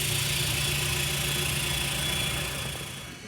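A Mahindra Roxor diesel engine runs with a 2.5-inch straight dump pipe, a loud, steady, tractor-like rumble up close that eases off slightly near the end.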